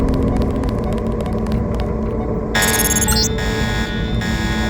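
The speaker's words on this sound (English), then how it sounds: "The alarm just closed the north door." An alarm sounds in the video game Deus Ex, a loud electronic buzzing tone that cuts in partway through over a steady low rumbling game ambience and repeats briefly.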